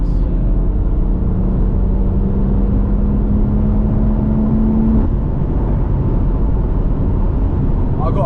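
A BMW M140i with a B58 engine and Stage 2+ tune runs at a low steady rumble, with a faint whine rising in pitch for several seconds and a constant heavy low-frequency drone throughout.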